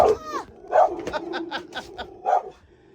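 A dog barks repeatedly at a passerby walking another dog, several close, loud barks in an uneven burst of yips and woofs with brief gaps.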